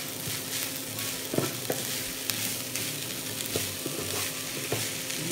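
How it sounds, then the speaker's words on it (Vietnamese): Cooked pork filling being stirred in a frying pan for bánh cuốn, with a utensil scraping and tapping the pan in irregular strokes over a steady soft sizzle, close and without talking. "Bây giờ con đảo đều rồi, thịt nó chín rồi ha"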